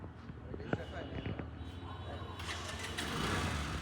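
A used motorcycle started with its self-starter: brief cranking clicks, then the engine catches and settles into a louder steady running note, with a voice speaking faintly at the start.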